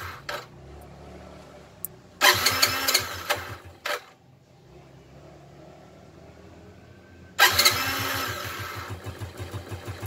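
A motorcycle fitted with a Daytona Ignimax spark plug cranks in two loud bursts, the engine catching and running briefly with a rapid sputtering rhythm between a quieter pause.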